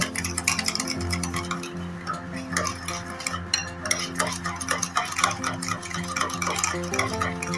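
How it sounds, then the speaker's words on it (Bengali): Yogurt and sugar being whisked by hand for a sweet lassi, a steady busy stream of quick scraping and ticking strokes against the bowl, close and continuous, with a low background hum and no talking. "এটাকে ফেটিয়ে নিচ্ছি ভালো করে এভাবে ফেটিয়ে নিতে হবে"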